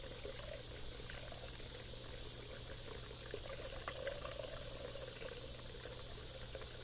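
Water flows and splashes steadily over a gold prospecting water table in a continuous, even rush with a low hum beneath, no voices.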